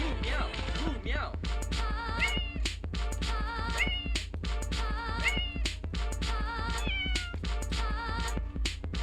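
A cat meows repeatedly and close by, the calls coming in quick succession over a steady low hum, with a person's voice briefly heard near the start.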